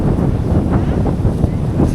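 Steady wind buffets outdoors on a boat trip in Coron, a loud rumbling roar of gusts battering the microphone throughout with no pauses.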